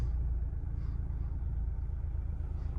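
A Mazda CX-5 2.2 diesel engine idles steadily with a low, even rumble, quiet and continuous, no voices.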